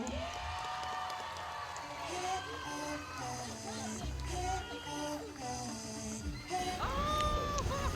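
A crowd cheers, whoops and applauds for a performer named Diego at a Hershey Park show, a sustained wash of clapping and shouts heard at some distance and fairly faint, with tonal music or voices running through it.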